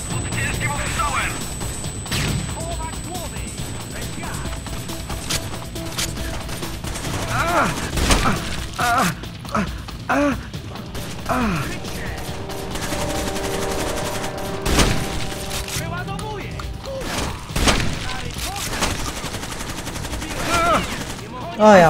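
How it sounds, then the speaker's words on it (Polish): Rapid automatic gunfire and single shots from the Rainbow Six Vegas video game, loud and continuous with bursts and booms, mixed with shouted voices and game chatter. "Pod ciężkim ostrzałem!"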